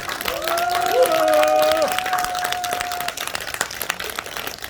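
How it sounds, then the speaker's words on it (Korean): Applause from a crowd at a Korean political rally held to prevent election fraud, steady clapping beneath a voice that rises and falls over the first few seconds, with the clapping continuing alone afterward. "큰 박수 한번 부탁드리겠습니다"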